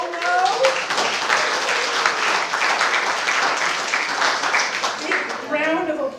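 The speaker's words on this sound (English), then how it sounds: "Big round of applause for Michael." Audience applause fills a forum gathering from start to finish, a dense, steady wash of clapping hands at close range, with a voice speaking over it briefly at the beginning and again at the end.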